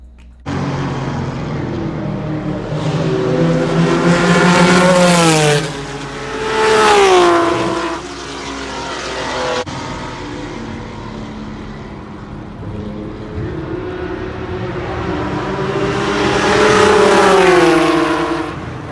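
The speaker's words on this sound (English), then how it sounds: "here's a clip of the car coming down, down 12, and then and just listen to the sound of the engine" A BMW E36 M3 race car's engine at Road Atlanta (Michelin Raceway) roars loudly and steadily for about 19 seconds, its pitch rising and falling through gear changes and surges of revving as it comes down toward turn 12.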